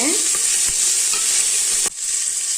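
Tomato and garlic drop into hot oil already frying cumin and chilies, giving a loud, continuous sizzle with a few soft stirring knocks, close up and with no voices.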